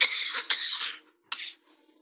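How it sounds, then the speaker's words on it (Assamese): Two loud, close coughs in quick succession from a man, followed by a softer third cough after a short pause, with no other sound around them. "খুব ডাঙৰ কাহ এটা আহি আছে"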